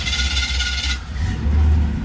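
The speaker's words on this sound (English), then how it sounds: "So I got the car turned on, lights on." A 1966 Chevrolet Impala engine idles steadily just after starting, a low continuous rumble that swells slightly near the end, with a bright whirring hum over it for the first second.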